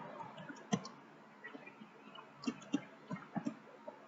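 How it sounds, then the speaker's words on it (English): Quiet, scattered clicks of a computer mouse and keyboard in a design session, single taps and small clusters spread irregularly across a soft background, close and faint. "I'm just clicking on alt and then moving it to my artboard"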